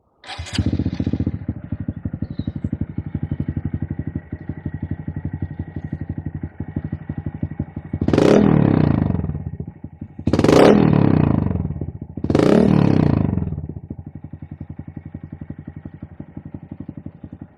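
A 2019 Honda Monkey engine, nearly new at 468 miles, starts and idles with a ticking rhythm, then three sharp revs rise and fall before settling back to idle.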